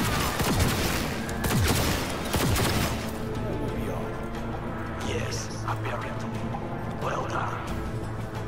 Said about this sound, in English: What the hell is shooting me from over here?